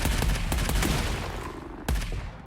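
Assault rifle fire in the video game Arcadegeddon, a rapid run of close, sharp shots followed by a pause and then two more separate bursts.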